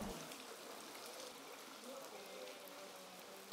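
Heavy rain pouring down during flooding in a residential area, a steady, dense hiss of falling water on surfaces, fairly even and sustained throughout.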